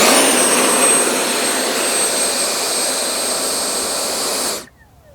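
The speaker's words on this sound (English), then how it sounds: "in this sequence, we're showing you a short field takeoff and landing" Freewing F9F Panther 70mm electric ducted fan model jet on a short-field takeoff and landing, a loud, steady high whine with a faint tonal whistle that cuts off abruptly near the end.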